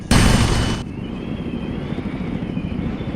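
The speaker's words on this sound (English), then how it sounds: "My helicopter's rattling a lot." A helicopter in the Arma video game rattles in flight, giving a steady rotor and engine drone. A loud broadband burst opens the first second, then a continuous rattling hum follows, alone and without talk.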